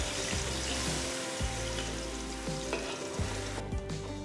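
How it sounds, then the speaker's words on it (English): Masala paste of ground onion, ginger, garlic and green chilli frying in oil and ghee, a steady close sizzle with rhythmic scraping and stirring strokes throughout, no voices. "Cook the masala till it's nice and brown."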